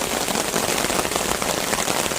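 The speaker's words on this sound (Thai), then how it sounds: "ฝนลงหนาเม็ดเรื่อยๆครับเรื่อยๆครับ" Heavy rain pours steadily onto a tent pitched under a large tree beside a waterfall, making a dense, loud, continuous patter with no breaks and no voices.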